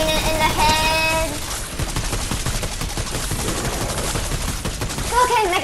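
Rapid, dense gunfire in a zombie survival video game, a steady burst of shots running for several seconds at close range, mixed with game tones and music.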